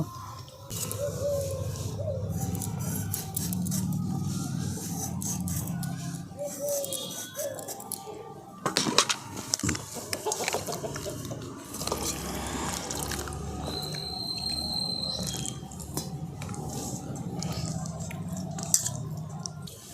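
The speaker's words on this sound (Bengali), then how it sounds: "এই দুটো আলুকে আমি ভালো করে ছাড়িয়ে নিয়েছি, এরপরে জল দিয়ে ভালো করে ধুয়ে নিয়েছি" Two peeled potatoes being washed in water in a kitchen, close wet splashing, dripping and squishy handling sounds running steadily, broken by a few sharper knocks of a bowl.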